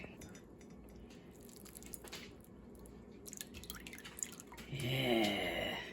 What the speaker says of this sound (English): So I'm going to pour this into my strainer, into my bowl here